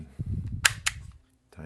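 An Umarex TR50 cap gun revolver, just repaired with a new drum axle spring, snaps off two sharp, close cracks in quick succession. Someone speaks just before the shots, and the room goes quiet afterward.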